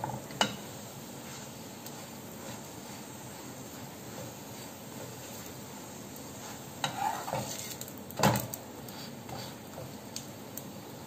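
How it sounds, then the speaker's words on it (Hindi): Besan-coated bread toast roasts on a pan with a faint, low sizzle and hiss, broken by a few brief scrapes and taps as it is pressed and turned. "और दूसरी तरफ से भी इसे हमें सेक लेना है, तो अच्छा गोल्डन कलर आने तक सेक लेना है।"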